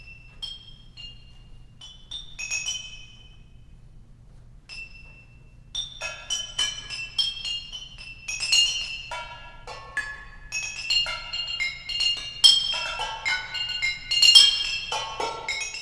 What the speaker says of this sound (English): The bottles do their best to disguise themselves as a xylophone by playing things that sound almost like conventional scales.